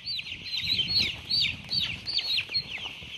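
Chickens in a coop thrown into chaos by a power outage give repeated high, rising squawks and clucks in quick bursts, with steady shuffling and scratching noise underneath.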